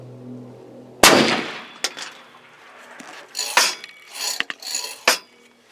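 A single sharp, loud report from a Mossberg Patriot .300 Win Mag bolt-action rifle fired from a Ransom Rest, followed by a series of metallic clanks and clatters as the rig settles.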